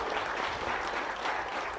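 Audience at a public meeting with an MLA clapping in a steady burst of applause, dense and even, heard close for its whole length.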